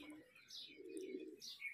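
A pigeon coos softly at an outdoor pigeon flying tournament, low throaty warbles with a few faint higher chirps nearby, quiet and somewhat distant.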